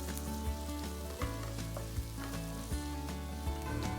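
Roughly chopped tomato sautés with golden brown onions in a pan for dal tadka, giving a steady close sizzle with a few stirring knocks, while tuneful background music plays underneath.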